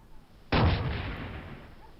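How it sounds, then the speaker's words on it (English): A single heavy artillery blast from the Battlefield 2 video game goes off sharply after a brief quiet, then its deep rumble slowly fades away. "Here you can see the artillery actually firing when I'm deployed that."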